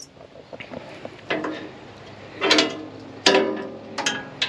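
The tailgate lock of a 2024 Iron Bull dump trailer gives a series of metallic clunks and ratcheting clicks, several sharp close impacts spaced a second or so apart with no talking.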